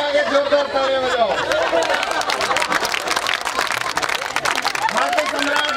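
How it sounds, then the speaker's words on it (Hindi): Loud, dense clapping from an audience welcoming an arriving guest, steady throughout the clip, with crowd chatter and a voice or two mixed in. "और बहेती के आगे जोरदार तालियां बजाओ।"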